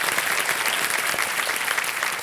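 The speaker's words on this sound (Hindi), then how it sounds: "तालियां बज जाएं इनके स्वागत के लिए।" Studio audience at a televised quiz show breaks into dense, continuous applause to welcome a contestant, a steady wash of many clapping hands with no speech over it.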